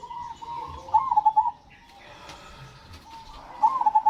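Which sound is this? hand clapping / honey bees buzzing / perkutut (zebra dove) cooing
perkutut (zebra dove) cooing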